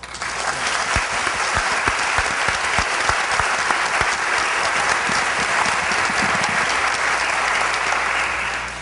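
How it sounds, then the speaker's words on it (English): Sustained applause from an audience at a business school speaker series, filling the room steadily and continuously right after a talk and its final question, with no break and no one speaking over it. "How about a round of applause for him, huh?"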